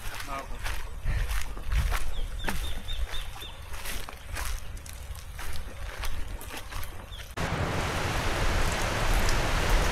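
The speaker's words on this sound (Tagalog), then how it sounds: "Ito na hinihintay namin, yung ambon." Light drizzle falls steadily outdoors on a farm among fruit trees, a soft even hiss that grows denser and louder near the end, with people talking over it at first.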